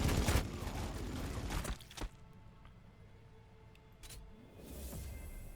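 Gunfire from units shooting in the Warhammer Battlesector video game, with Blood Angels Intercessors in a multiplayer match: a dense, fairly loud burst of shots at the start, sharper single cracks around the two-second mark and again later, over a steady battle ambience.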